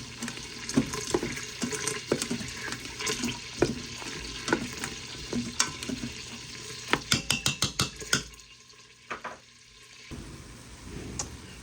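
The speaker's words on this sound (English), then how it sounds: "let these start to saute down a little bit." Vegetables with onion sautéing in a pot for wild rice soup, a soft sizzle with repeated scraping stirs, a burst of quick clicks near the end, then a quieter stretch and what sounds like running water.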